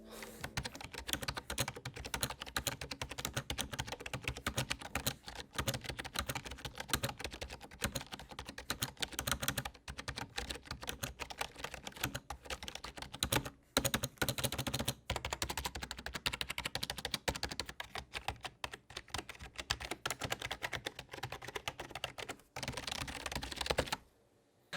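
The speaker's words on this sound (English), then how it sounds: "here's a quick sound test of how the Cynosa's membrane switches sound" A Razer Cynosa Chroma gaming keyboard with membrane switches being typed on, a steady stream of soft, muffled key presses at a quick, uneven pace, fairly quiet and close, running continuously with no talk.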